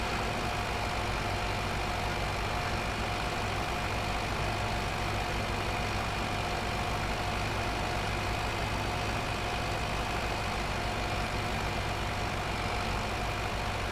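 A large tractor engine runs steadily in a farming game, a continuous droning rumble with an even hum and no pauses.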